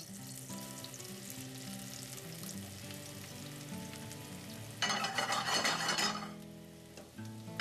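Diced mushrooms hit hot extra virgin olive oil in a pan, a steady sizzle over a low background hum that surges into a louder, brighter burst of frying near the end.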